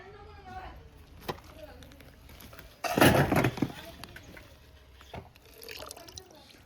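A brief loud gush of water pours out of a pipe in a burst, then drops back to quiet drips and soft background noise.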